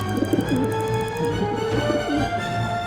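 A pigeon in the video game Syberia coos in repeated soft, rolling phrases, close and clear against a steady background hum.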